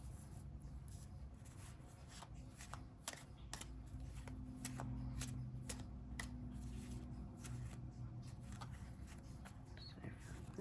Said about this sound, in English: as I draw the cards